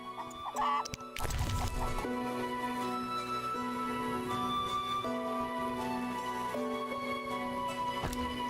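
Chickens cluck in The Witcher amid a village scene, a loud crash or burst early on followed by sustained tonal layers and scattered clucks, near and fairly loud.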